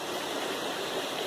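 A small creek runs among large boulders on the Appalachian Trail in the Crocker Mountains of Maine, giving a steady, close rushing and burbling with no voices.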